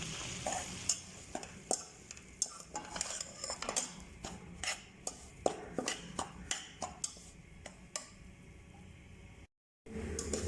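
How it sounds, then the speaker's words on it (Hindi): Semolina roasting in ghee in a pan, stirred without pause by a spoon, giving rapid repeated scrapes and clinks against the metal over a soft sizzle, with a brief dropout near the end. "सूजी को भूनते वक्त मुसलसल इसके अंदर चम्मच चलाते रहना है ताकि ये नीचे से लगे ना।"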